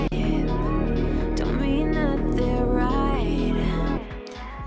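Future bass track in its second verse, dense and loud with layered synth chords, bass and melodic lines running continuously before thinning near the end.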